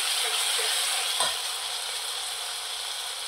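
Onion frying in a pan with ginger, garlic and chili paste, a steady loud sizzle throughout with a brief scrape or stir partway through and no voices.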